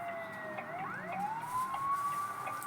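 Ambulance siren in the Bus Simulator Indonesia video game, a clean electronic tone sweeping up and down in a continuous wail, moderately loud and heard alone without talk.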